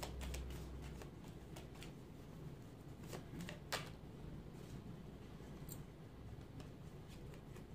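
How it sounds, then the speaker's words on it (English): Tarot cards are pulled from a deck, giving soft, faint shuffling and card-slide rustles with occasional light snaps, close by in a quiet room. "Just take out cards."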